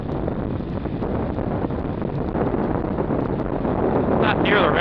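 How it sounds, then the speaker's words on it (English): A 2006 Yamaha XT 225 motorcycle engine runs at highway speed, around 60, with a steady continuous drone masked by heavy wind rush throughout and brief voice noise near the end. "you can hear the motor. It's getting up there in the rev range now at 60."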